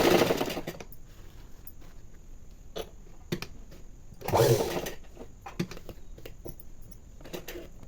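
A sewing machine stitches the lining of a blouse sleeve in short, intermittent bursts, with quiet pauses between runs, heard close and alone.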